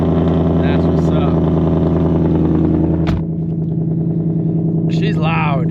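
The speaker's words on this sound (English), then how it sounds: "Let's get a cold start going over here." A car engine idles loudly and roughly after a cold start, with a dense throbbing rumble close by, a sharp clunk partway through, and a person speaking briefly near the end.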